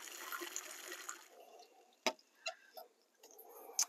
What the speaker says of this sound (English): I'm not filling the buckets up all the way with water, only about a third of the way